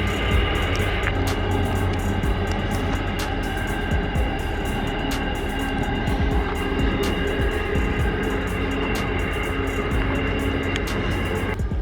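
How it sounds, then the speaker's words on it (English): Steady loud rumble of a long multi-carriage train rolling past nearby in Walyunga National Park in the Perth Hills, continuous clatter and drone with no pauses throughout. "There comes another train."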